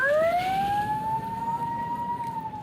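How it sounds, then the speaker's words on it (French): An ambulance siren wails in a long, loud rising and falling tone, close by and continuous over faint background rumble, with no voices. "Les ambulances évacuent des blessés."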